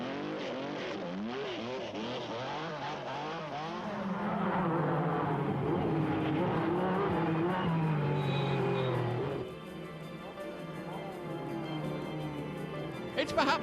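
A battered Lancia Stratos rally car with damaged rear bodywork drives a rally stage, its engine note climbing and falling through repeated revs, then settling into a steadier, quieter drone.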